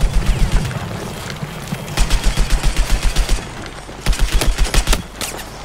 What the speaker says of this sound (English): we're getting heavy fire right now